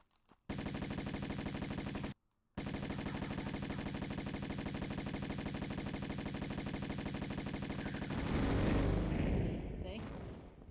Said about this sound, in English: with the Uzis, you can just hit the shoot button and she'll just continuously shoot